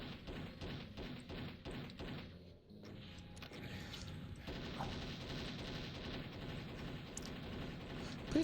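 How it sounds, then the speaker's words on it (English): Enemy gunfire in Doom rattles in rapid, repeated shots, a fast rhythmic volley early on, then a brief lull before more scattered blasts and thuds continue at moderate loudness. "Whoa, why are you still shooting?"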